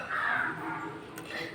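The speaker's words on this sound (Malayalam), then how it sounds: "കാക്കച്ചി നമുക്ക് കഥ പറയുന്നത് കേൾക്കാൻ വന്നിരിക്കുകയാണ് കേട്ടോ" A crow gives a single harsh, nasal caw close by, followed by quieter calls, with a faint voice in the background.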